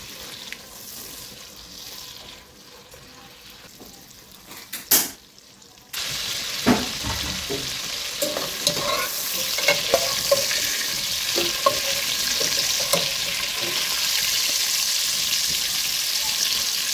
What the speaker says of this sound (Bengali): এগুলাকে 1 মিনিট পর্যন্ত হালকা আঁচে ভেজে নেব।